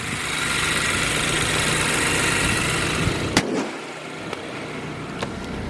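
A 2014 BMW 428i xDrive four-cylinder engine idles with a steady low rumble and broadband exhaust hiss, then the sound drops abruptly, leaving a quieter hum with a few clicks.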